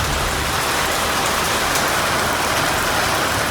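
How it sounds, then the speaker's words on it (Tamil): Moderate rain falls at night in Ranipet district, Tamil Nadu, making a dense, loud, unbroken hiss of drops striking surfaces throughout, with no voices. "ராணிப்பேட்டை மாவட்டத்தில் இரவில் மிதமான மழை பெய்தது."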